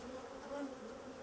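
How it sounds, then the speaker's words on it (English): Agitated queenless honey bees buzzing steadily around an open hive after dark, a close, continuous droning hum of many wings at low volume. "So even the most placid of bees can get this grumpy when they are hopelessly queenless."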